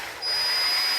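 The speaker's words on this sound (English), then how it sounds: "grab a small pilot drill bit, such as maybe this one here. Basically, we can get rid of that large one now. And you want to drill 4 pilot holes" A small pilot drill bit bores into a Ford Ranger PX interior door panel, giving a steady, close, high whine from the power drill that ramps up after a moment and holds.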